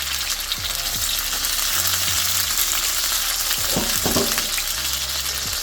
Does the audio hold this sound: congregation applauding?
no